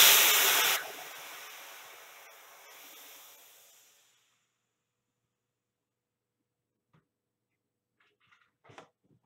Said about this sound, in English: I'm just going to let the airbrush out.